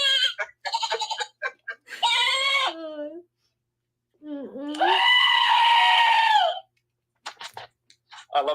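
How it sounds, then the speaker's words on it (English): Goat sound effects: a series of bleats and cries, one long drawn-out scream-like bleat in the middle, with short clucking, chicken-like bursts before and after and brief silent gaps. "That's my goat sound effects."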